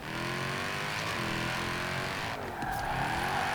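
Mercedes-AMG GT R in Forza Horizon 4, drift build: a loud, continuous engine drone with a sustained tire squeal, a brief dip and then a rise in revs near the end.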